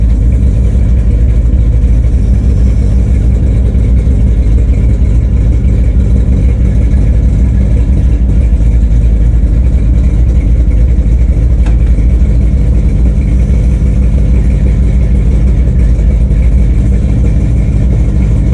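A truck engine idles steadily with its power take-off engaged, a continuous low rumble that stays close and even for the whole stretch with no talk over it.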